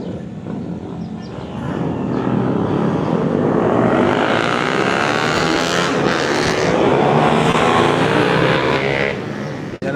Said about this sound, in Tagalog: Yan naman yung motor na 155 oh.